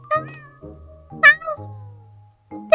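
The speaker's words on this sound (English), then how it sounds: "It's a cat!" A cat in the Impostor Factory video game gives several clear, close meows in quick succession, each a short rising-falling cry with brief pauses between, with no other sounds.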